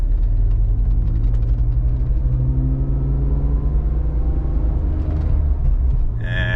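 Engine of a BMW E46 CSL with SMG gearbox, tuned and with a VANOS rattle, holds a steady low rumble under constant throttle while driving, heard loud from inside the cabin.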